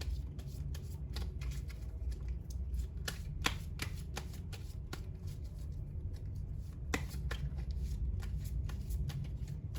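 Tarot cards shuffled by hand in a steady run of soft riffling and sharp flicks, close and continuous, with no talking over them.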